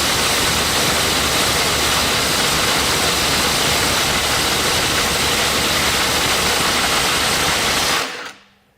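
An impact driver hammering steadily through a 1/4-inch adapter at a 400 foot-pound setting, a loud, dense continuous rattle held for about eight seconds before cutting off abruptly. No voices over it.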